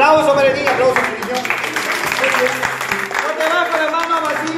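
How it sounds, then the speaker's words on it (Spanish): Scattered applause and hand claps for a child's first birthday, mixed with a woman's lively sing-song chanting and other voices of the party going on throughout. "Aplauso, Merenín, aplauso, Merenín."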